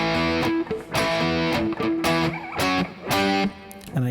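Distorted electric guitar plays a riff, loud chord stabs in a choppy rhythm with short gaps and muted accents, heard alone without talk.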